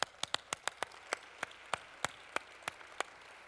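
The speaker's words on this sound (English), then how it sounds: "Let's give him a big round of applause." Sparse, scattered handclaps from a few guests at an arts awards luncheon, about a dozen distinct sharp claps spaced irregularly over soft room noise, fairly quiet and without talk.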